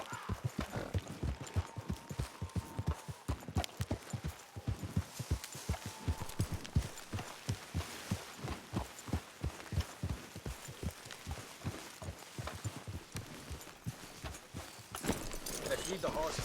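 Horses' hooves clip-clop steadily on a trail in the video game Red Dead Redemption 2, a continuous rhythmic thudding of several horses at a walk, with voices talking over it.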